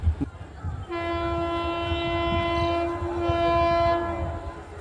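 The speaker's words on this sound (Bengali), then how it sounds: "আবার বারুইপাড়া থেকে শিয়ালদার উদ্দেশ্যে ট্রেনটি রওনা দিয়েছে" An express train's horn blares in a long, steady tone, then sounds again after a brief dip, over the low rumble of the train departing Baruipara station.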